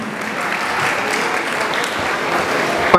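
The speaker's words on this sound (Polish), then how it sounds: "Państwo klaszczą" Loud, dense audience applause fills a hall at a ballroom dance competition, sustained and even for several seconds with no pause, a crowd of many hands clapping together without talking.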